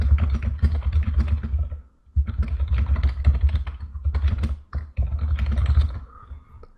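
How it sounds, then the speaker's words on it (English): Fast, steady typing on a computer keyboard while messaging in Discord during a Star Citizen session, dense clattering keystrokes in loud bursts with two brief pauses, close and alone with no speech. "I was just typing some message in Discord."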